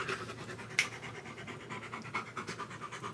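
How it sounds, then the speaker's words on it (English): A dog pants close by in quick, rhythmic breaths that run steadily throughout, with one sharp click near the start and no talk. "That's the panting. It's not me. I'm not panting."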